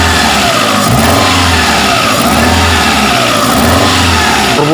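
A Chery QQ 311 engine with a misfire is revved repeatedly, its loud uneven roar rising and falling in rough pulses close to the microphone, with no talking.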